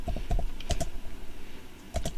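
Typing on a computer keyboard in short bursts of quick key clicks with pauses between them, close and moderately loud, with no talking.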